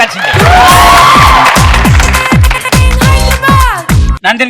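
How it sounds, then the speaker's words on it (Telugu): Loud studio audience on a Telugu TV talk show clapping steadily and cheering, with whoops and shouts over continuous applause throughout. "ఇతను గట్టిగా చప్పట్లు కొట్టాల్సిందే"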